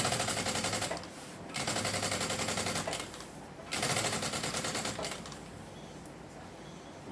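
A sewing machine stitches around the edge of a bag strap in fast, close, rattling runs, with short pauses between bursts.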